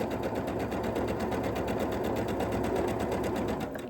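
A sewing machine runs steadily at close range, stitching a quilt block seam down the middle of a red fabric piece in one unbroken, even whir with no pauses.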